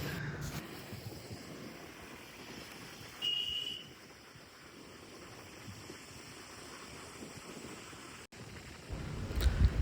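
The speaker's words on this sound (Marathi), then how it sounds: "खूप जोरात वारा वाहतोय" Strong wind roars through an open car sunroof on the Tamhini Ghat road in a steady, rushing blast, with a brief louder gust partway through and buffeting swelling again at the end.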